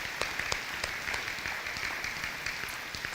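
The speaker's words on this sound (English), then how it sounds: "Let's give everyone a round of applause for being part of this partnership." Audience applause at an elementary school dedication and ribbon-cutting ceremony, a steady, fairly faint patter of many hands clapping throughout, with no voices over it.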